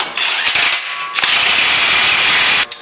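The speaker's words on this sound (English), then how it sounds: "I'm gonna use the impact gun, but a ratchet will do the same." A pneumatic impact gun tightens the front wheel hub axle nut on a 2016 Mazda3 during a bearing replacement, loud rapid hammering bursts, a short burst then a long sustained rattle, close up with no talking.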